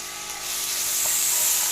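Garlic, ginger and green chillies frying in a pot, giving a steady, close hiss of sizzling oil with broadband crackle that swells slightly and holds alone without talk.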